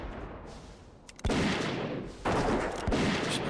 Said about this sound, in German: Ich probiere gerade meinen Schuss hier aus.